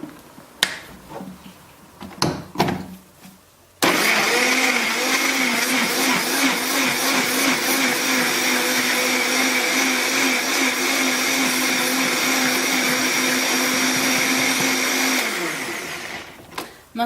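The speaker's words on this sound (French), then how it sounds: "Et puis, on va mixer tout ça." A blender whirs loud and steady as it purées a raw beetroot soup with garlic and lime. A few clicks and knocks come first, then about eleven seconds of continuous motor roar before it stops.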